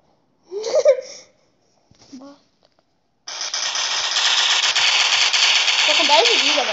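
Rapid multiplayer game gunfire bursts out loudly and continuously for several seconds after a couple of short Portuguese voice sounds, with a voice briefly audible over the shooting near the end.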